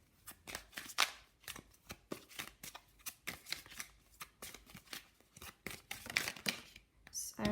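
Witch's Wisdom Oracle cards are shuffled close by in quick, repeated riffling flutters and soft slaps, with a steady rhythm of crisp card noise.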